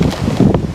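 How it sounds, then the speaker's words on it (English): Steady broadband wind buffeting the microphone, loud and close, with a brief gust swelling near the middle and no voices. "it's still very windy"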